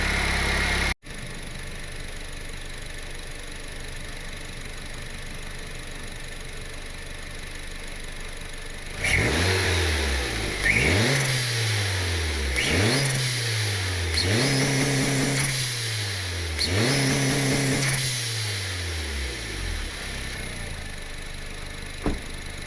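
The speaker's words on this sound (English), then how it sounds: "Is that turbo spinning? Yeah, that turbo is spinning all right." A Honda Civic R18 turbo engine runs at a steady idle, then gets five or six quick revs in a row, each rising and falling back. The sound is close and loud, and no one speaks over it.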